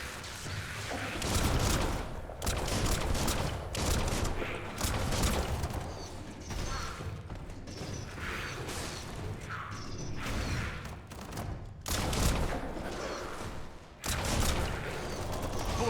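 Gunfire in the video game Biomutant, a dense continuous barrage of shots and crashes mixed with mechanical clatter and booms, loud and close throughout.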